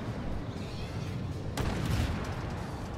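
A tank cannon fires once in the Armored Warfare video game, a sharp boom landing midway over a low, rumbling engine drone, with no speech.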